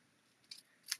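Scissors snipping glued ribbon overhang on a card, two quick, crisp cuts close to the microphone in an otherwise quiet room.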